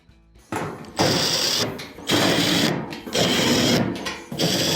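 Power drill driving a screw into a washing machine's stator assembly during repair, a broadband whirring burst that starts after half a second and runs in several loud surges with brief dips, close up.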